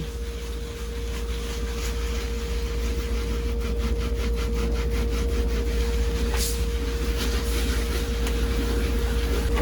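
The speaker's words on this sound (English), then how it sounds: "I'm going to take the coarser side, and I'm just going to start going in a circular motion" A Scrub Mommy sponge's coarse side rubs an oven door in circular strokes, producing a faint, continuous scrubbing swish over a low steady hum, with no talking.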